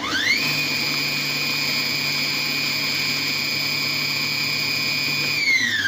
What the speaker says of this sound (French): Donc je vais mettre le programme haché pendant 10 secondes.